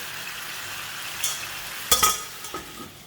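Mud crab masala sizzles in a pan as it is given a quick stir, with steady frying hiss and a few sharp clinks and scrapes of the utensil against the pan.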